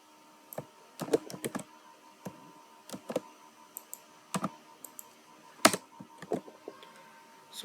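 Keys on a computer keyboard clatter in short irregular bursts as code is typed, crisp close clicks separated by brief pauses, in a quiet room with no voices.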